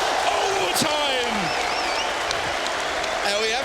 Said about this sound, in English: when the crowd goes wild, starts that roar